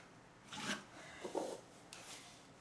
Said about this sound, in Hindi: अब ये जितनी लाइन निशान लगाए हैं इस पर हमें इस तरह से चौक से लाइन खींच लेनी है।